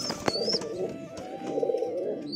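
Pet pigeons coo in soft, repeated rolling phrases, with a few sharp chirps and clicks mixed in, fairly close by.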